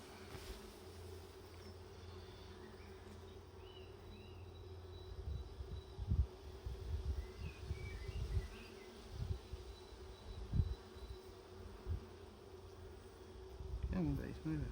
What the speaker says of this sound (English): Come on, bees, move it.